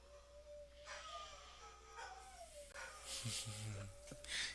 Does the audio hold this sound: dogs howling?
yes